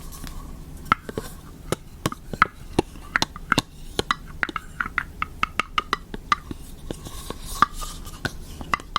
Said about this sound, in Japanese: こういう食べ終わった時のこの底のコンコンコンみたいな音結構好き